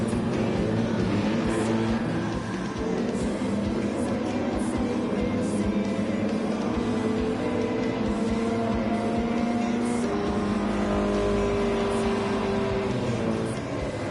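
Subaru WRX and other race cars battle in a video game, their engines droning steadily with rising and falling pitch as they jostle for position, a continuous layered roar throughout.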